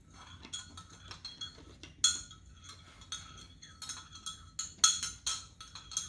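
A spoon stirs homemade bubble solution in a container, giving light, irregular clinks and scrapes that sometimes come quickly together, close and fairly soft, with no talk.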